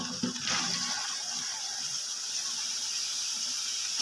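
Cauliflower goes into hot fried spices in a cooking pot, setting off a loud, steady hiss and sizzle that begins with a brief burst and then holds evenly, with no voices.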